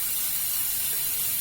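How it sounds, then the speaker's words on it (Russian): Hot water from a kitchen tap pours into a measuring mug, a steady, close, broadband hissing splash that stays even and unbroken throughout. "Я всегда прям горячую воду набираю с крана"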